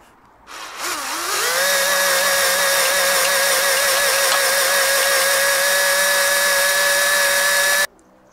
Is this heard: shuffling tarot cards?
no